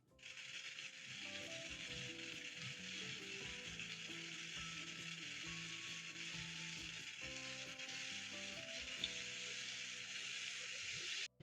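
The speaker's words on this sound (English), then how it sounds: "using a spatula, you're going to break down the minced meat as it's cooking" Minced meat frying in a pan for dirty spaghetti gives a steady, fairly quiet sizzle as a spatula breaks it up, with soft scraping strokes running throughout and no voices.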